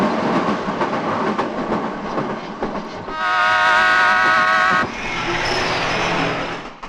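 A train runs through Bombay, its steady rolling rumble and rattling wagons filling the whole stretch, with a loud sustained horn-like tone blaring in the middle before the clatter carries on alone.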